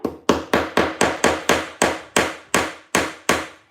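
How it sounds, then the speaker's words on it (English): A little hammer strikes about a dozen sharp, evenly spaced blows on a farm project, each hit crisp and close with a short ringing decay, no voices. "And yes, I use a little hammer."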